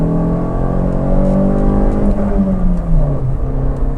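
A Fiat Argo Trekking with its Firefly engine revs hard while accelerating, the loud, close engine tone climbing steadily in pitch before easing off slightly near the end, with no voices.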